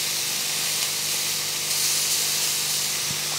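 Chicken sizzling on a grill pan, a steady hissing sizzle holding at moderate level throughout, with no other sounds over it.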